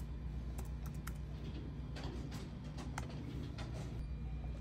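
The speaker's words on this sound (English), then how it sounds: "Then you go to your search, type in Canvas." Keys tapped on a computer keyboard while logging into a school account, a quick irregular run of clicks clustered in bursts, fairly close over a steady low hum, with no one speaking.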